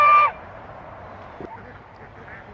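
A goose at a farm enclosure gives one loud, brief nasal honk at the start, followed by quiet outdoor background with faint distant sounds.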